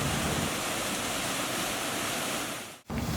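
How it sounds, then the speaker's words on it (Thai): A small waterfall tier in Ban Sapan, Bo Kluea, Nan, Thailand rushes continuously, a dense, steady wash of falling water that briefly dips at the end. "อันนี้ก็เป็น น้ำตกเล็กๆอีกชั้นหนึ่งนะครับ"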